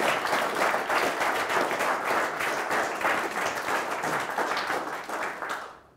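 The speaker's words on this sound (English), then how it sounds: "Give them a round of applause" A crowd applauds steadily for several seconds, dense clapping close by, fading out at the end.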